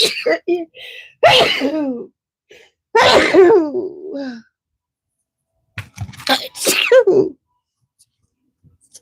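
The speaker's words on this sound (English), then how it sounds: "Hold on, I'm about to sneeze." Several loud, close sneezes burst out one after another, with short pauses between them and a few breathy sounds in the gaps.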